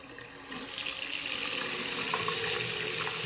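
Tap water runs steadily from a faucet after a low-pressure problem has been fixed, a strong continuous hiss and splash that swells after the first half second and then holds level, close by and alone.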